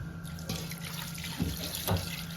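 Water runs steadily into a pot, a soft continuous splashing stream with a couple of brief louder gurgles, fairly close.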